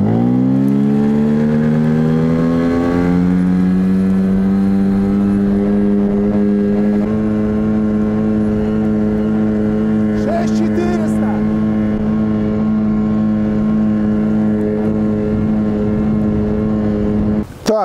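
A Tohatsu 9.8 outboard motor with an 8.5-pitch propeller pushes a boat carrying one person, its whine rising quickly then holding a loud, steady high-revving drone throughout, with brief splashes and a sudden cutoff at the end.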